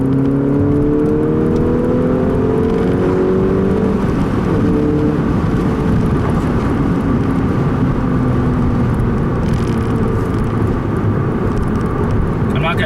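A 2011 VW Golf MKVI GTI pulls hard in third gear, its engine note rising steadily from a low drone over heavy road and wind noise, loud and continuous from inside the cabin with no talking.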